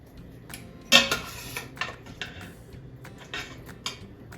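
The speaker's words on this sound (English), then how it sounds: "when we scoop the beans out of the Instant Pot, they're nice and soft" Cooked black beans with bits of red pepper are scooped from an Instant Pot, giving a few clinking metal-on-pot knocks and soft scraping sounds at close range, with no one talking.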